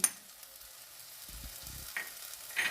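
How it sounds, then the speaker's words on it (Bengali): Spice paste of coriander, cumin, ginger and green chilli sautéing for a prawn curry, with faint low stirring scrapes and soft sizzle bursts, fairly quiet and intermittent. "মশলাকে ভালো করে কষিয়ে নিতে হবে"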